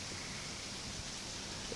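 Rain falls steadily on a flooded lakeside parking lot at Lake Eufaula, a faint, even hiss of drops on water and pavement with no breaks.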